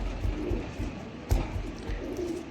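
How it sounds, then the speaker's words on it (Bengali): Pigeons of the 128 breed, a pair kept with two small chicks, coo in soft, low, repeated throbbing calls close by, with faint background noise. "128 জাতের দুটি কবুতর, দুটি ছোট বাচ্চা দেখুন আপনারা"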